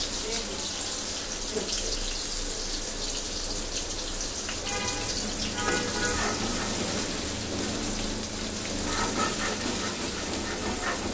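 A blended paste of ginger, garlic, onion and tomato frying in hot oil, with a loud, dense, continuous sizzle and a brief clattering stir near the middle.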